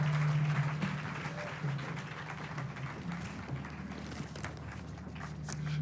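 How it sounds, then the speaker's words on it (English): Audience applause fills a hall at the Shield Africa Summit 2025 in Nigeria, a steady wash of many hands that stays fairly loud throughout over a low electrical hum. "Please keep those round of applause going."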